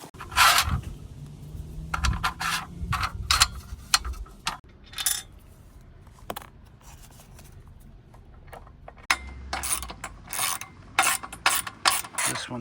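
A ratchet wrench tightens bolts on the sliding-rail bracket of an OutfitR 3-bike hitch e-bike carrier rack, making quick bursts of close metallic clicking with pauses between strokes and some handling clatter.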